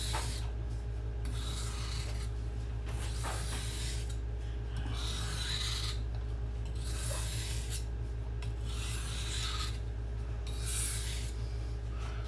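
A kitchen knife is drawn over the smooth side of a whetstone in slow, even rasping strokes, about six passes separated by brief pauses, close up over a steady low hum.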